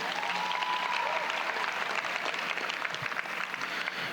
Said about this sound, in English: please give yourself a humongous round of applause right now.